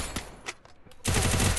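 UMP submachine gun firing in Free Fire: a few scattered shots, a brief lull, then a loud, sustained rapid burst of automatic fire.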